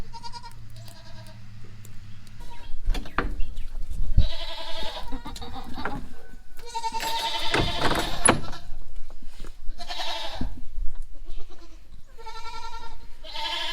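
A goat on a farm bleats loudly and close by several times, with short wavering calls spread across the stretch and quiet pauses between them.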